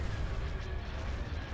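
Cannon fire in a Star Wars: Empire at War space battle mod, dense, rumbling booms rolling continuously at moderate loudness.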